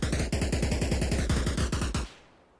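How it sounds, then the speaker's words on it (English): Loud, close burst of rapid automatic gunfire in a military video game, roughly twenty evenly spaced shots over two seconds, ending abruptly with a short fading tail. "he just fired a shot"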